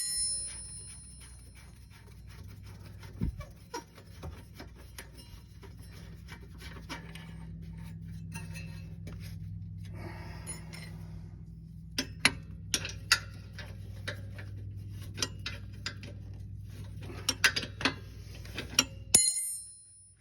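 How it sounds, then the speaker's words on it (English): Hand tools loosening and pulling bolts on the rear brakes of a 2005 Toyota RAV4, a run of faint metallic ticks and rubbing clicks over a low steady hum, growing sharper and more frequent in the second half. "Let's get the bolts loose, just pull them, get them out of the way."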